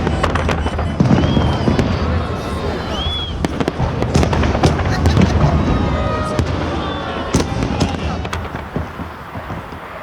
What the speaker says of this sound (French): Cette journée singulière se termine par un immense feu d'artifice dans le ciel de Saint-Pétersbourg